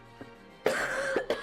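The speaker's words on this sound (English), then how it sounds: "Sorry, I'm gonna be coughing a lot." A person coughs during a Pokémon Alpha Sapphire play session: a faint throat sound, then a sharp, loud cough followed by two more quick coughs, close to the microphone.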